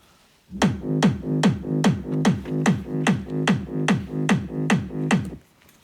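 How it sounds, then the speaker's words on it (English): A steady electronic kick drum thumps in an even four-beat pulse, locked with a deep, humming bass line, playing alone without any voices, in a big room festival electronic dance music style. "it's a really nice kick and bass together"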